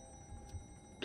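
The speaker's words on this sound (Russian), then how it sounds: "Будильник какой-то." An alarm clock ticking inside the video game You Are Empty, a faint, soft tick heard briefly over a low steady hum of ambient game background.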